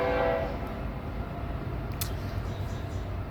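A train passes by on nearby railway tracks, a low steady rumble of wagons with a brief horn note at the start and a faint squeal partway through, heard at moderate distance.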